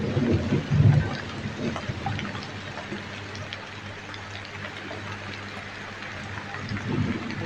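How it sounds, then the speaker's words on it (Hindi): Heavy rain with thunder during a storm that also brings light hail, a steady dense hiss with low rumbling swells at the start and end. "तेज गरज के साथ में बारिश और हल्की ओलावृष्टि हुई है"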